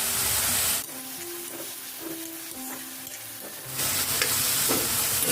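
Steady sizzling and frying of onion, tomato and peas in a pan with soft scraping of a spatula, broken by a brief quieter stretch, no voices.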